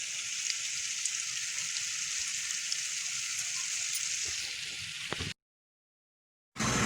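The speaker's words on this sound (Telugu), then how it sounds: "బాల్స్ అన్నీ వేసి డీప్ ఫ్రై చేసుకోవాలి." Gobi manchurian balls deep fry in hot oil over a medium flame, a dense and steady sizzle that fills the whole scene before a brief cut to silence near the end.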